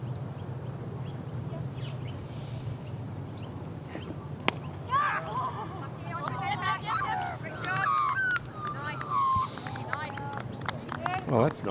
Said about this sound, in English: Local bird life.